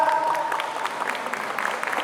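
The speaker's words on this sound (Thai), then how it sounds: "ขอเสียงปรบมือด้วยครับ" An audience claps at the opening of the 2024 K-pop Cover Dance Festival in Thailand, a dense, steady patter of many hands at moderate distance. A fading tone sounds at the start, and the applause carries through to the end.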